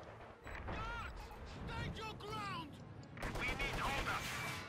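Bursts of machine gun fire and other gunfire from the wartime strategy game Company of Heroes 2, steady and dense throughout, under a voice commenting on the match.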